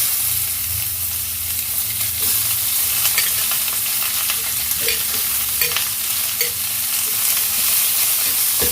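Two large chopped onions sizzle steadily in hot oil while being stirred around a pan for a Chennai-style vada curry, a constant close frying hiss with scraping stirs throughout.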